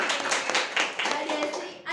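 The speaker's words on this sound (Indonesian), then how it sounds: "Tepuk tangan Mbak Desi." Classroom clapping during a microteaching science lesson, a short burst of several hands applauding, close and moderately loud, with voices mixed in.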